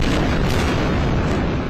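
Continuous roar of explosions over Gaza City at night, a dense, loud, unbroken rumble of blasts with heavy low booms and no speech.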